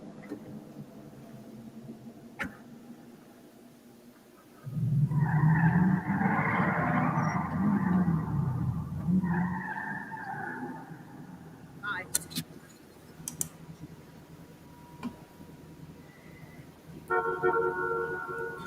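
Video game car driving and skidding, with a steady engine drone and tire skid building midway, under conversation and background chatter.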